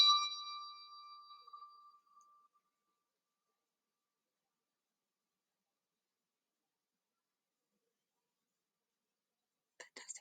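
A single bell is struck once in a reception-class music lesson, ringing clearly and then fading away over about two seconds into silence, followed near the end by a few faint sounds.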